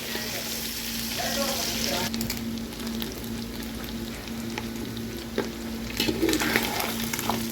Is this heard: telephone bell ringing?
no